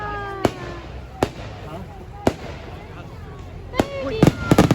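Fireworks bursting at a seaside carnival in Weston, a series of sharp distant bangs and crackles spaced irregularly, ending in a quicker cluster of pops, with a voice talking in between.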